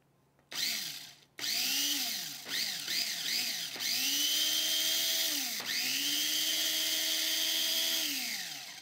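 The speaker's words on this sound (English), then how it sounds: "So I put it in my food processor, gonna add the top, and now I'm just gonna pulse it until it's finely chopped." A food processor pulses to finely chop ingredients, its motor whirring loudly in repeated bursts. The bursts are short at first, then it runs in longer sustained spins that rise and hold, with brief pauses between them.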